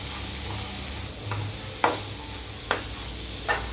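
Onions and tomatoes sautéing in a pan for a simple chutney, a soft steady sizzle underneath with three or four sharp scraping stirs of a spatula against the pan, close and fairly quiet.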